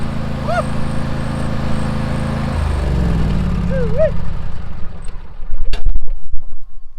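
A John Deere farm machine engine runs close by on a farm, a steady low droning hum that shifts in tone partway through, with a few faint chirps and a brief knock near the end.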